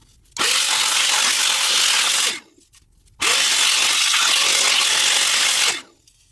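Two sustained hissing blasts of compressed air duster, each about two seconds long, are directed close-up into an Olivetti Lettera 22 manual typewriter to clear out grime, with a short pause between them.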